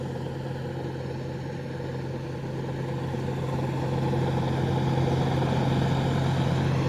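A tractor engine runs steadily, with a strong low drone and a constant rumble that grows slightly louder toward the end, heard close and without talk.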